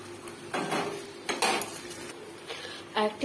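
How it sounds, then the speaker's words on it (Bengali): A pan lid is lifted and koi fish are turned in hot oil, heard as a few short metallic clanks and clatters of utensil on pan over a low background sizzle. "এবার আমি ঢাকনাটাকে তুলে দেখবো হচ্ছে কিনা। একটু মাছগুলিকে ফিরিয়ে ফিরিয়ে দেবো।"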